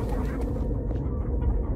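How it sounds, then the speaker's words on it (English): Giant chickens in Minecraft: Story Mode give low, throaty clucking and honk-like calls, a dense rumbling flock sound at moderate level with no talking. "it appears we are in the land of chickens that are indeed the size of zombies"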